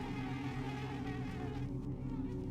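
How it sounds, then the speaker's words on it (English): A swarm of bees buzzes in the video game System Shock 2, a continuous low droning hum that stays close and steady throughout, with no talk. "The bees! The bees know of us."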